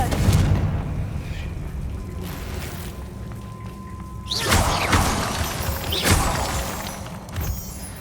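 Confringo spell explosions in the game Hogwarts Legacy: after a low rumble, a loud shattering blast crashes in, then a second burst follows, with debris-like crackle trailing between the booms.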